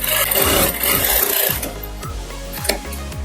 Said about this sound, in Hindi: अब यहाँ पे साइड से मैं सिलाई लगा रही हूँ।